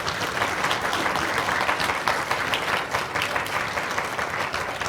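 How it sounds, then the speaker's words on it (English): Dense, sustained applause from a conference audience honoring a panel at a New York food policy event, even and moderately distant with no talking. "Let's have a round of applause for this incredible panel."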